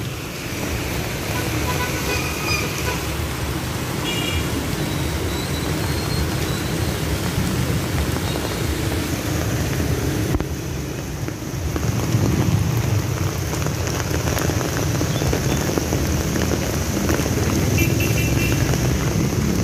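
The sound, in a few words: heavy rain with thunder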